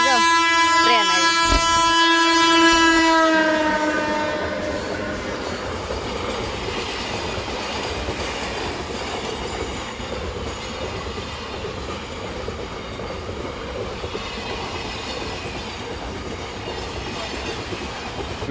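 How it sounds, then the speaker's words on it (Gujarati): A train arriving at a village station, opening with a long loud horn blast, then steady rumble and clatter of wagons rolling past close by, with faint voices in the background. "આમ જો ટ્રેન આવી"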